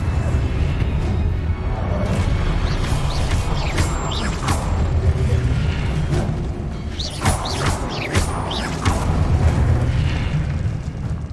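Fire spell cast in Hogwarts Legacy, heard as a series of bursting whooshes and booms over a dense, continuous rumbling game soundscape with repeated flaring impacts throughout.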